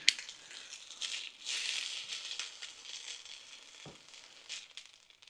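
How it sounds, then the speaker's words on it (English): Quiet, close crackling and hissing of sausages frying in a pan, with a soft low thump partway through. "So they're sizzling along nicely."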